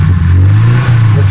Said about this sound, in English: I rev the engine, you can watch a graph.